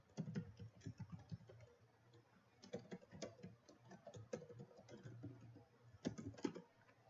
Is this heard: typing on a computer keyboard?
yes